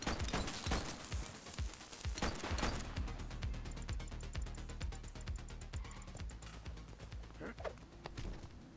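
Rapid bursts of gunfire from a shooter in the video game The Precinct, with sharp repeated shots and a fast rattling volley, loud and near.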